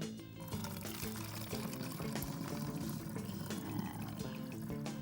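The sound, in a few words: pouring hot water into a plastic bottle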